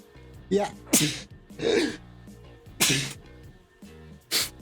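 Sneeze from a player during a tabletop Dungeons and Dragons session, one sharp, close burst among several bursts of nearby voices and a brief spoken word.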